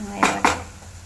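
Two quick metallic clinks as a lid is set onto a cooking pan on the stove while quinoa chicken fried rice simmers, close and fairly quiet, followed by a soft low hum.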